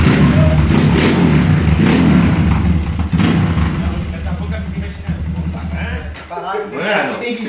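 A 351cc motorcycle engine revs and accelerates loudly up close, the roar rising and then easing off.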